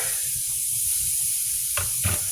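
Marinated shrimp with paprika, garlic and olive oil sizzle in a hot pan, a constant close hiss with soft crackles, then two brief louder scraping clatters near the end as they are flipped.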